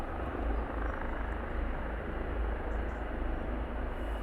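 RAF training helicopters flying at RAF Shawbury give a steady, moderately distant rotor drone with a faint rhythmic throb, holding even and continuous with no voices.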